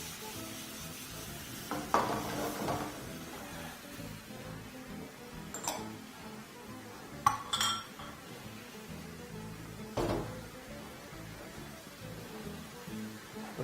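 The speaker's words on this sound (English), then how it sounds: "just proceed to continue tossing everything in your pan together" Bananas Foster ingredients are tossed in a pan over a soft sizzle, with several sharp clinks and scrapes of utensil against pan.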